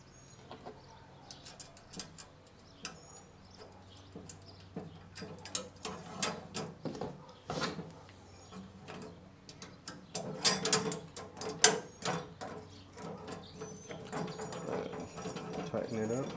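A bolt and lock nut are tightened on a Kingsford Stockade 49-inch smoker and grill, heard as close, irregular metallic ratcheting clicks and clanks that grow busier toward the end, with talking in between.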